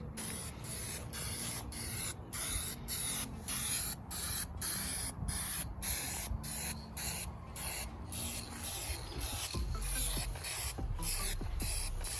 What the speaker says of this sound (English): You have to kind of spray it a little closer than you would the primer.